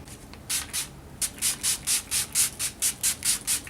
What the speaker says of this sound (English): I like to spray that on